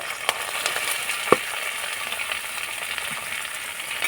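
Chopped carrot fries in a pan with green chilli for spinach-stuffed puri filling, a continuous bright sizzle broken by a handful of sharp spatula clicks and stirring scrapes, close and without talk.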